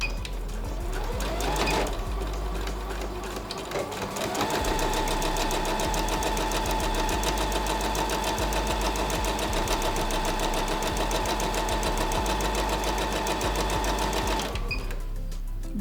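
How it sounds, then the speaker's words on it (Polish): A Łucznik sewing machine stitching elastic onto a fabric face mask runs in a steady, loud, fast mechanical chatter for most of the stretch, with a brief pause near the start before it picks up and continues until stopping. "maszynę najlepiej uruchomić do przodu i zrobić ściegiem wstecznym jeszcze raz przejechać po gumerce"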